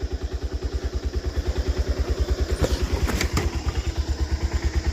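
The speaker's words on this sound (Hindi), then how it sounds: "यहाँ पे बाइक स्टार्ट करेंगे" A motorcycle engine starts and settles into a steady, rapid thumping idle, loud and close, with a brief clatter partway through and no talking.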